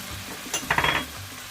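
Taco filling fries in a pan as red chili powder goes in, with a brief burst of close sizzling and stirring over a low background hiss.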